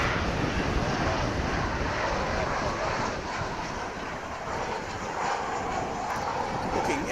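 An American Airlines airliner in Heritage livery passes at DFW Airport in afternoon sun, its engines giving a broad, steady rumbling roar that swells gently and holds at moderate distance throughout.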